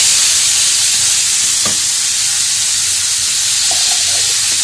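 Food sizzles steadily in hot coconut oil in a pan, a continuous bright frying hiss, with a couple of soft clinks as pieces are turned over; no talking.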